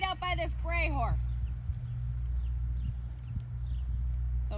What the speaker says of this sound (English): So stay trotting right next to this gray horse until you see a straight line.